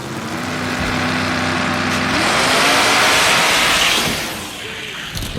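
Drag racing cars, including a 67 Chevelle, launch and roar down the strip in a close side-by-side race, a loud engine blast rising and sweeping away with crowd noise and a voice underneath.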